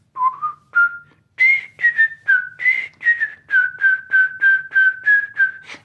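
A person whistles a bouncy tune in a run of short, bright notes, mimicking a cockatiel's whistle, close and clear.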